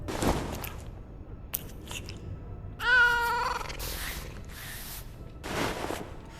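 A cat in the video game The Killing Stone gives a clear, drawn-out meow near the middle, set among short soft thumps and whooshes from the game's soundscape.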